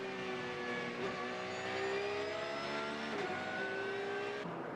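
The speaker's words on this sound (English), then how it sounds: "That's what a real race car should sound like. Engine red lights going all the way to the top." A GT3 race car at the Okayama circuit during a Japan Cup race accelerates hard. Its engine note climbs steadily and stays loud and continuous, with brief dips at the gear changes.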